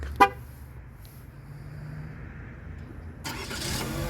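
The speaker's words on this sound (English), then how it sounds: "So there's your remote start, your car started" A 2024 GMC Terrain is started by remote start: a short, sharp chirp near the beginning, then a low idle rumble that swells into a louder, fuller engine sound toward the end.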